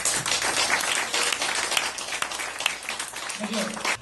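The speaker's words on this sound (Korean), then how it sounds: "박수 한번 주시죠, 먼저." An audience at an installation ceremony of a Christian business association chapter applauds, with a steady wash of clapping while people talk over it.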